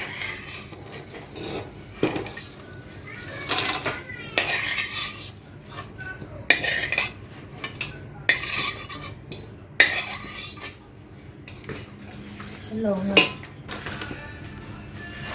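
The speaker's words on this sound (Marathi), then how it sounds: "असे जे सगळे खडे मसाले आहेत ते सगळे आपण असेच भाजून घेणार आहोत" Whole spices such as cloves being dry-roasted in a pan for traditional Kolhapuri onion-garlic masala in a village kitchen: a metal spatula scrapes, stirs and clinks against the pan in irregular bursts, with soft rustling between strokes.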